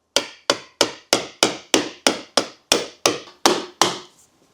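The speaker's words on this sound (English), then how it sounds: "grab a screwdriver and a hammer and just bang that shit" A hammer strikes a screwdriver into a stubborn oil filter on a Mustang Cobra, twelve sharp, evenly spaced metallic blows with a short ring after each, close and alone.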